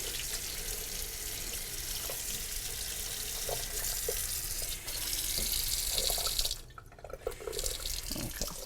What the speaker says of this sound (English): Let me rinse my knife.